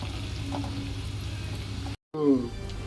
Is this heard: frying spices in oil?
yes